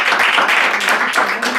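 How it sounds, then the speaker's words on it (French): An audience at an entrepreneurs' gathering applauds, a dense, steady patter of many hands clapping close by and fairly loud, sustained for the whole short moment. "on applaudit quand même"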